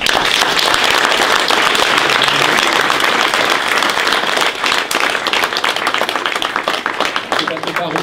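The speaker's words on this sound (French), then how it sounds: "Je vous propose dès maintenant d'applaudir les artistes, l'association et tous les contributeurs." Audience at a contemporary art festival applauding the artists, a dense, steady burst of clapping across the whole stretch, loud and close, thinning slightly toward the end.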